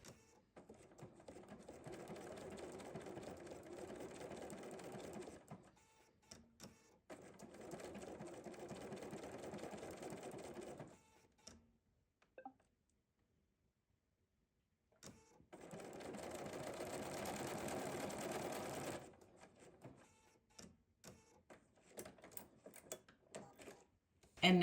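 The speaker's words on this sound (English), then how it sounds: "when my machine is like kind of right in the middle of this stitch" An embroidery sewing machine stitches a pattern in steady mechanical runs, whirring evenly for several seconds, pausing briefly and starting again, with a quiet gap in the middle and no talk.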